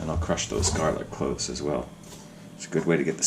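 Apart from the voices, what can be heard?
No everyday noises stand out.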